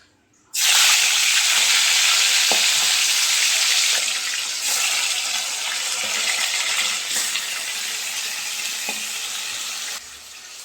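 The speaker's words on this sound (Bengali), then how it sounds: "দেখো তেলটা হয়ে গেছে এবারে মাছগুলোকে ছাড়বো" Hot oil bursts into a loud, steady sizzle as tilapia fish are added, starting abruptly and crackling close by, easing slightly toward the end.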